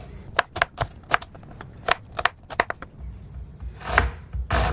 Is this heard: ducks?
no